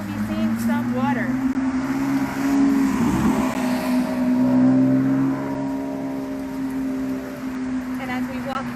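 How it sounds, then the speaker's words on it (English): Steady drone of cars passing on a nearby road at the edge of Egbertville Ravine woods, a continuous traffic hum with a louder swell as one vehicle goes by midway. "the sounds of the cars will diminish as we move farther and farther in"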